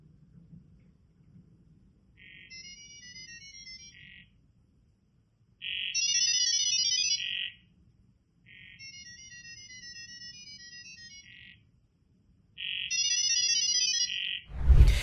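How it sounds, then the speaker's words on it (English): GibberLink AI data-communication tones arrive in four bursts of rapid, chirping, modem-like beeps. The bursts alternate between quieter and louder ones, separated by pauses over a faint low hum. A loud thump comes at the end. "it's actually a new technology, a sound-based communication protocol they have recently launched"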